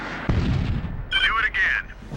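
An M203 grenade launcher fires in a military video game, a sharp thump followed by a rumbling blast, with a brief radio-style voice speaking afterward.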